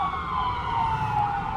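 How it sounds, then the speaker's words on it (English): An ambulance siren wailing steadily outdoors, a loud sustained tone sliding slowly in pitch as the vehicle passes, with traffic rumble beneath. "It's the ambulance."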